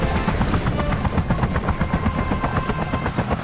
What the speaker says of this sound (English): Time to fight a helicopter.